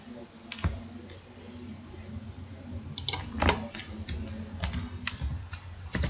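Typing on a computer keyboard while entering a spreadsheet in Excel, with irregular clusters of sharp close key clicks and a faint steady background hum.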